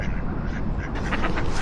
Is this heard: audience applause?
no